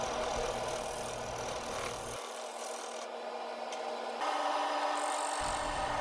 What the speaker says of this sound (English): Now I've moved on to the skew chisel here.